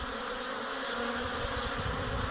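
Honeybees buzz steadily outdoors on a warm, lightly windy day near their hives, a dense close hum with no voices.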